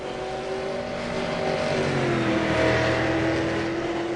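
A V8 Supercar in the v8sonline sim race series drifts round Barber Motorsports Park, its engine droning and revving with shifting pitch as the car slides, a continuous mid-distance roar.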